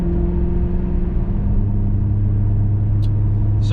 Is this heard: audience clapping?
no